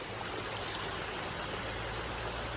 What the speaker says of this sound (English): You just have to listen to this waterfall.